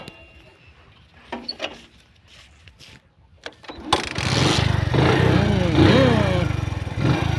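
A motorcycle is kick-started: a few quiet mechanical clunks come first, then the engine catches and runs loud and close with a steady throbbing rumble. Voices can be heard over it.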